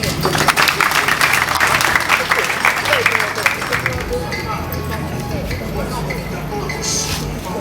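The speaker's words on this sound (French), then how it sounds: "On peut les applaudir" Mourners at a funeral applaud people who struggled alongside the deceased, a lively crowd clapping that is loud at first and then thins out. Voices and shouts mix in throughout.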